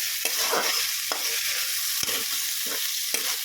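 Chopped onions fry in oil and ghee for tomato rice, a steady close sizzle with a few stirring scrapes and clicks of a spatula against the pan, no voices.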